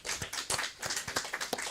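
A church congregation clapping in a sanctuary, a series of distinct claps that blend into a light, uneven patter, fairly quiet and without talk over it.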